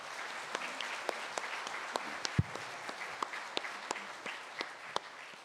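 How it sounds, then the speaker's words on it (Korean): A Korean Catholic church congregation in Atlanta applauds during Sunday Mass: steady, moderate clapping from many hands in a large, reverberant room, with a few sharper individual claps standing out. "다시 한번 감사의 박수 인사를 드리겠습니다"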